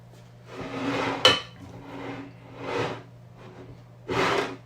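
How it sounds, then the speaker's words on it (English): Mashed potato is spooned onto a shepherd's pie in a few slow, soft scooping and smearing strokes, with one sharp clink of the spoon against the dish, close and quiet. "now we just spoon it onto the shepherd's pie"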